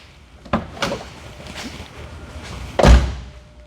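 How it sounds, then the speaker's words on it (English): A few soft knocks and rustles, then one solid, low clunk as a brand-new hot rod's door shuts close by. "Listen to the way the Sounds door like shuts."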